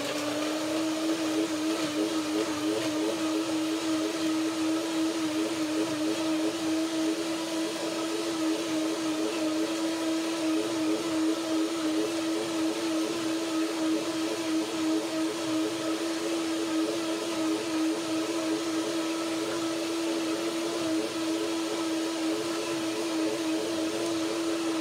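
A blender motor whirs steadily at high speed, a constant droning hum with a bright buzzing edge that holds unchanged throughout, with no voices.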